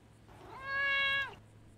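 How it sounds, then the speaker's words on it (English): A cat gives a single drawn-out meow lasting under a second, clear and moderately close over a faint background hum. "Dude, I wish I had a cat like Thurston"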